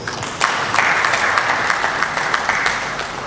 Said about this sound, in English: Please, now give all the speakers another round of applause.